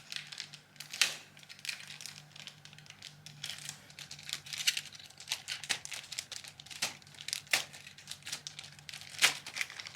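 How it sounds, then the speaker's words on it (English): Crinkly crumpling and tearing of Kindle Paperwhite packaging as it is cut open, with scattered sharp crackles and rustles at close range over about ten seconds and no talking. "Let's just cut that open right there."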